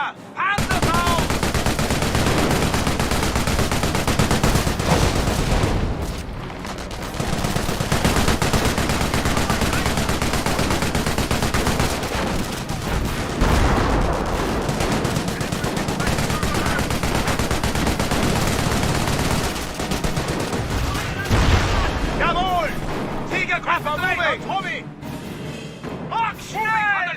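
A dense video game battle with German Tiger tank crews and a machine gun post: constant heavy gunfire, machine gun bursts and explosions run almost without pause. Voices shout orders over the noise.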